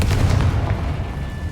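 A Confringo blasting curse explodes in the video game Hogwarts Legacy, a loud low rumbling boom that rolls on and slowly fades, with faint sharp crackles above.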